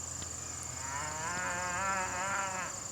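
Cattle left grazing on leased farmland near an old barn moo with a long, wavering low call, fairly close and clear over a steady background hum.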